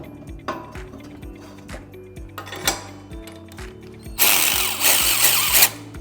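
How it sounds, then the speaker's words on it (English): An electric wrench tightens bolts while a bike rack is assembled, with rapid mechanical bursts and ratcheting clicks coming in short pulses, then a louder, sustained whirring run near the end. "You'll also need an open wrench or an electric wrench"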